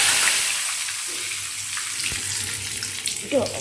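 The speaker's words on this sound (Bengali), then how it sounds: "তেল গরম করেছি শুকনো লঙ্কা ফোড়ন দিয়ে দিয়েছি কটা তেজপাতা দিয়ে ফোড়ন দিয়ে দিলাম" Dry red chillies and bay leaves spluttering in hot oil for a dal tempering, a steady bright sizzle with a few pops and faint kitchen clatter, close and alone without talk.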